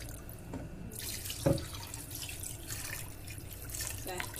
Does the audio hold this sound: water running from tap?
yes